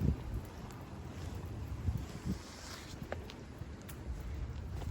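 Steady wind rushing and buffeting outdoors in a Japanese garden in early spring, a broad continuous roar with low gusty rumble against the microphone, no voices.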